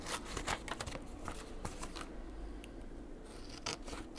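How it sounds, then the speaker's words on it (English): Scissors snip and trim the edges of paper in a quick series of close, crisp cuts during crafting, with no talking. "So I just will trim this off."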